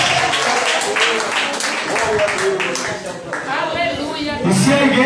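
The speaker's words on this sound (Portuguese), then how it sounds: "Você pode aplaudir Jesus?" Scattered clapping from a church congregation during an evangelical service sits under loud, close voices and shouting. The clapping is busy at first, then thins as the talk carries on over it.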